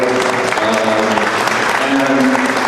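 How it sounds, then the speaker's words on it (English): Sustained applause from an outdoor gathering at the Manzanar site at dusk, a dense steady patter of many hands clapping together, fairly close and even throughout with no break. "giving you a round of applause."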